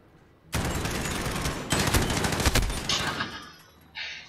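Fully automatic gunfire with SOCOM rounds in a video game: a loud, sustained burst of rapid shots lasting a few seconds, then tapering into quieter, thinner bursts.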